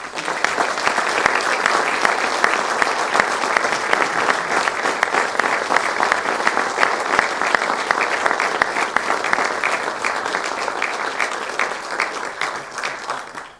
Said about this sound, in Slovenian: Prosim za en velik aplavz.